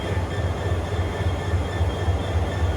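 A continuous rumble of a train running on the rails between Ahmedabad and Udaipur, with a rhythmic low pulsing from the wheels and a faint high whine above.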